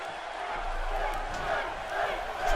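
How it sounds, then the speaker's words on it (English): A wrestling arena crowd in Baltimore roars steadily for Finn Balor, a dense sustained wash of cheering and shouting throughout, with a commentator talking over it. "Crowd trying to get behind Finn Balor here in Baltimore."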